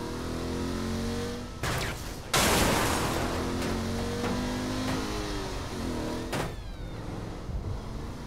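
Car engine in Saints Row: The Third, droning steadily with rising revs, interrupted by sharp bursts of crashes or gunfire, loud and close throughout.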